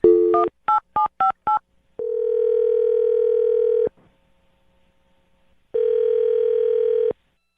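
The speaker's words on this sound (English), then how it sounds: "I'll dial her phone number right now." Touch-tone telephone dialing: a quick series of five DTMF beeps, then a steady ringback tone, a pause of near silence, and a second ringback tone, clean and alone.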